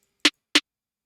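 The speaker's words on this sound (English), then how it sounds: "We have one snare like this," Two short, dry snare drum sample hits about a third of a second apart, crisp and close, each cutting off quickly into silence.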